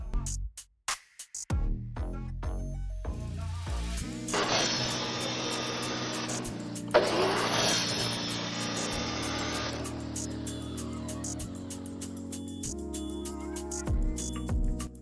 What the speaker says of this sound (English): Just getting the pieces cut to size.